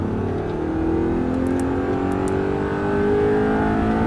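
An Audi R8 on a race track under full throttle, its engine note climbing steadily in pitch as revs build, loud and continuous with a faint whine above, no voices.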